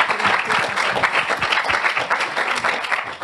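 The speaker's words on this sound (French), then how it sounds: "on peut les applaudir" An audience applauds award winners at an awards ceremony, a dense, steady burst of clapping filling the room, close and loud, with faint voices underneath.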